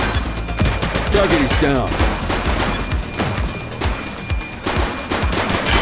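Dense gunfire in the police game The Precinct: rapid bursts and single shots crack in quick succession close by, with a voice speaking briefly amid the firing.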